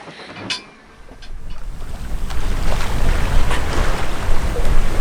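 A sailboat runs downwind on the open ocean off Cape Upstart in a moderate breeze, with steady rushing water and wind noise building and staying loud and close, no voices.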